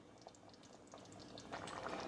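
Veg kurma bhaji bubbling over a gas flame, a faint, close simmer of soft irregular pops and bubbles that swells slightly toward the end, with no talk.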